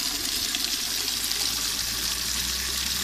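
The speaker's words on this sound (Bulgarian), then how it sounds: "Това е минерална гореща вода, която, ако виждате, излиза пара." Hot mineral water at 35–37 degrees runs steadily from a steaming public fountain in Kostenets, a constant close splashing and trickling rush with no voices.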